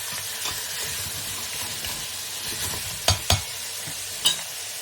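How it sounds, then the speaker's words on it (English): Lamb and spinach curry fries in a pan with a steady, close hiss while a spoon stirs through it, with a few sharp knocks of the utensil against the pan near the end. "As it's frying away, we're just going to cover it"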